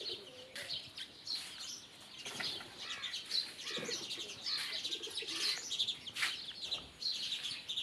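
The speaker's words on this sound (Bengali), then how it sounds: "কবুতরগুলা উড়ে বেড়াচ্ছে বেশ অনেকক্ষণ থেকে দেখতেছি" Pigeons coo and chirp nearby in an open outdoor spot, a steady layer of bird calls with brief rustling bursts, continuous over faint background noise and no talking.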